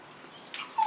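A female dog whimpers briefly indoors, eager to be let outside, with a thin high whine rising toward the end of a short, faint moment.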